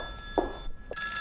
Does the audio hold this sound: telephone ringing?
yes